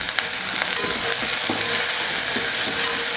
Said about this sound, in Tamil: பொரிஞ்சதும் கருவேப்பிலை, வெங்காயம், 2-3 பூண்டு பல், சின்ன வெங்காயம் 2-3,